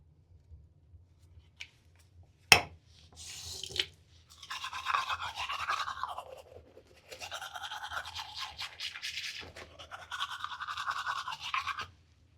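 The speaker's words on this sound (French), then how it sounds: "Je me brosse les dents." A toothbrush scrubs teeth in quick, close bristly bursts, starting with a sharp tap and then several sustained brushing passes separated by short pauses, quiet and with no speech.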